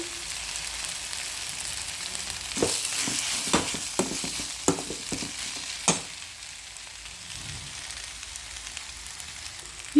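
Scraping stirs of a spoon through thick flattened rice with grated carrot in a pan on low heat, several sharp scrapes over a soft sizzle, then quieter sizzling.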